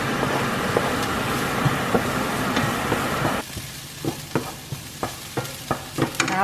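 Onions frying and sizzling in a pan, a dense steady hiss for about three seconds, then a quieter sizzle broken by sharp clicks and scrapes of stirring.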